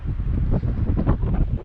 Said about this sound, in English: So it's kind of windy up here